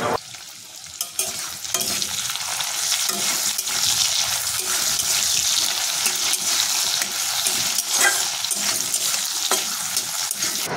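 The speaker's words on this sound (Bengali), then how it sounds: "আমি কড়ায় আলুগুলো যেগুলো ভাজা করে গেছিলাম সেগুলো এখন ভাজা প্রায় হয়ে গেছে" Potatoes cut for an egg curry fry in a wok with a continuous bright sizzle, broken by occasional stirring scrapes and clatter close by, and no one speaking.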